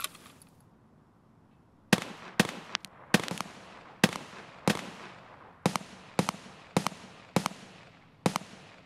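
Explosions and gunfire in the shooter game Escape from Tarkov, with a grenade blast: after a quiet stretch, a rapid series of sharp, loud bangs repeats at irregular intervals, each with a short decaying tail.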